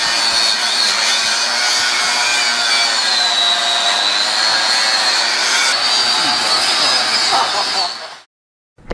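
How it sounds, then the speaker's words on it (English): Cutting through the seam weld of an automotive torque converter with a power tool: a loud, steady, high-pitched grinding whine held continuously for about eight seconds before cutting off abruptly. "I'm cutting underneath that weld because that's where it'll free up everything so I can take it and split it in half."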